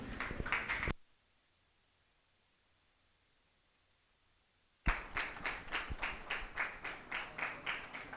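Audience clapping at an architecture college convocation bursts in loud and dense for about a second, cuts to near silence, then returns as sustained applause with rhythmic pulses.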